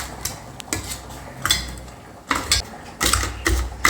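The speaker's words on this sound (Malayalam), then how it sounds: "ഇനി കാന്താരി പൊട്ടിക്കുക കേട്ടോ" Bird's eye chillies being crushed with salt in a pot in an old-style home kitchen, giving repeated sharp clattering knocks of metal and pot in uneven bursts, fairly close and loud, with no talking.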